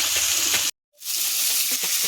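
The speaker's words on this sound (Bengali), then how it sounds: "আমি এবার মাছ ভেজে নেব।" Fish frying in hot oil in a wok, a loud steady broadband sizzle that cuts out abruptly for a moment before resuming just as strongly.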